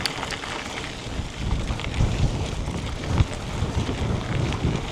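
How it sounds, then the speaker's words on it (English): Strong wind buffets the microphone on a bikepacking ride along the Old Chalk Way, a steady roaring rush with louder gusts swelling and dropping, close and continuous, with no voices. "But unfortunately, it is still rather windy."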